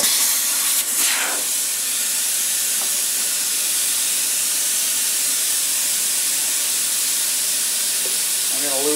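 Air escapes from a trailer tire with the valve core pulled out: a loud, continuous hiss that stays steady and close for the whole stretch.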